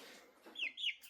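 A chicken gives two short, high clucks, close by and fairly quiet, in a brief moment with no talking.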